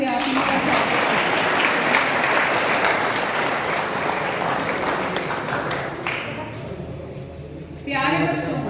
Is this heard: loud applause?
yes